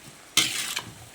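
Chicken curry being stirred in a frying pan, a brief scraping, sizzling burst lasting about half a second, close and fairly loud against a quiet background.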